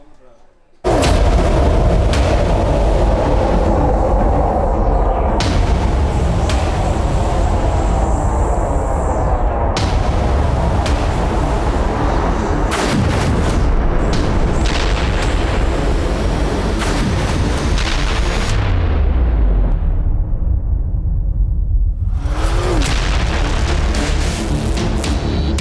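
Heavy bomb blasts from B-2 bomber strikes in Operation Midnight Hammer on Iran boom and rumble repeatedly, loud and dense for most of the stretch, with a voice speaking over them.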